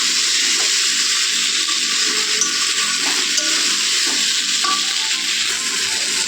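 Meat sautéing in a pan for a Bengali kosha, giving a loud, continuous, dense sizzle close by with faint stirring underneath and no talk.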